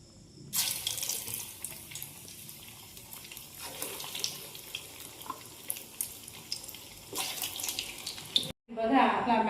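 Maggi pakoda dropped into hot oil gives a steady hiss and crackle of frying that runs nearly the whole time, with brief louder bursts, ending in a short break before a different tail of sound.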